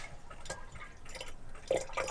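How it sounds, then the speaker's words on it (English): Water runs from a tap inside a camper van, a faint, uneven trickle with scattered drips and splashes, with no voices. "The instructions said to let the water run for about 10 minutes."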